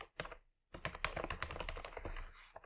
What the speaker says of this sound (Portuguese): eu vou digitar aqui, ó, document